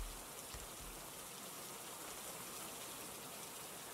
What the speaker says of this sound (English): it's raining outside for real